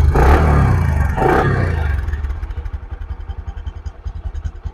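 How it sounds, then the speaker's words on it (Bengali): A Bajaj Discover 125 motorcycle engine runs close by, loud and blustery at first, then settling into a quick, even putter at idle. "বাইকের সাউন্ড শুনতে পাচ্ছেন আপনারা"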